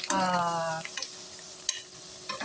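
Mushrooms and egg sautéing in butter and ghee in a pan give a steady close sizzle, with a brief stirring scrape near the start and a few soft clinks of utensils.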